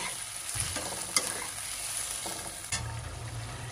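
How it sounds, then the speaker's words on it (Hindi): Chicken pieces and onions sizzle in a hot pan, a steady frying hiss with occasional stirring scrapes and a couple of sharp clinks. Close by, and no one speaks. "अब प्याज के साथ में इसको भून लेंगे"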